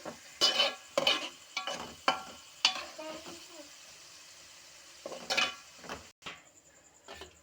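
Turmeric stirred into fish pieces softening in a cooking pan: several separate spatula scrapes and knocks in short bursts, fairly close, with quiet gaps and a faint sizzle between them.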